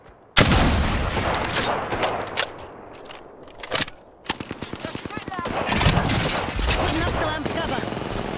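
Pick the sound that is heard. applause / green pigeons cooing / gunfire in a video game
gunfire in a video game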